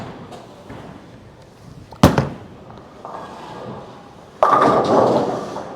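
A 900 Global bowling ball shot at a bowling alley: a sharp crack near two seconds, a quieter stretch of rolling, then a loud burst of crashing pins around four and a half seconds that slowly fades.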